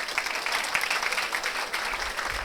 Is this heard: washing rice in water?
no